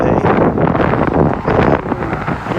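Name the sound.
wind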